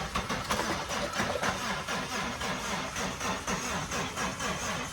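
A Suzuki Swift four-door saloon engine runs with a steady, rhythmic mid-pitched chugging, continuous and fairly close, with no voices over it.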